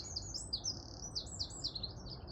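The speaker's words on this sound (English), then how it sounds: "You can hear birds everywhere in all the trees." Small birds, including tits, sing in the trees of a garden allotment plot in mid June. Quick, high chirps and tweets repeat through a quiet background.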